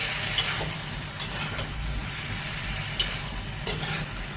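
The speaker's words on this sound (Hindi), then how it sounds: "पहले ही चिकन में नमक दे के रखा था, तो अभी इसको ऐसे ही फ्राई करता हूँ" Salted chicken pieces fry in a pan for butter chicken, making a loud, continuous close-up sizzling hiss broken by a few sharp clicks of stirring.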